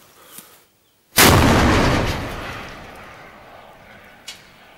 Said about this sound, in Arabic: تقوم باستهداف جبل دورين قذائف مدفع جهنم